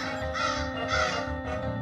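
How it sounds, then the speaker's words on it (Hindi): Crows cawing close by, two or three harsh, loud caws in quick succession over a short stretch. "ये कौवे मेरा विग ले गए। यहाँ कौवे कैसे आए?"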